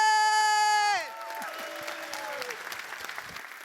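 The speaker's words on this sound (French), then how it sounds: "faire un tonnerre d'applaudissements à Rachel!" Audience applause welcoming a speaker at a professional talk, a crowd clapping steadily after a loud cheer, continuing evenly to the end.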